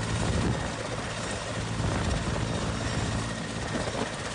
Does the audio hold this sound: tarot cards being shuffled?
no